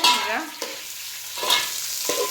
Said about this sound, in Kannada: ಈರುಳ್ಳಿ ಹಾಕಿದ್ಲು ನೋಡಿ.